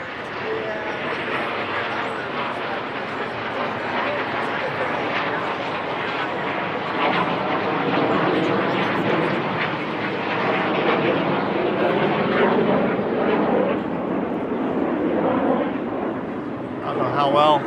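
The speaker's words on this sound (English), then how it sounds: "We got a lot of planes flying overhead." Several airplanes fly overhead in formation above downtown Toronto near Chinatown and Kensington Market, producing a broad, sustained engine roar throughout, with city background noise.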